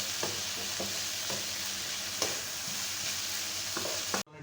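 Chicken and Thai fried rice are stir-fried in a pan with a steady sizzle and periodic scraping stirs, ending abruptly.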